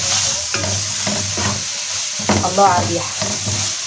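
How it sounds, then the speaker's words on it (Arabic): Garlic sizzles in a hot pan while a spoon stirs and scrapes it in short repeated strokes, close and clear, with a brief voice speaking over the frying. "كده هنزل بالثومه اشوحها تشويحه كويسه"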